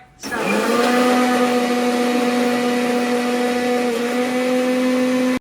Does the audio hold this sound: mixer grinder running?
yes